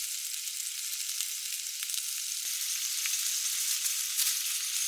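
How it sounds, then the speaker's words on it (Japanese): Broccoli and pork mince fry side by side in a pan over medium-low heat, giving a steady, even sizzle that holds at a moderate level throughout with faint crackles and no talking. "横でブロッコリーも焼きます"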